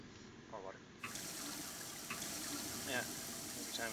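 Running water from a tap in the video game Prey, a steady watery rush filling the clip after a brief quieter start, with small splashy bursts over it.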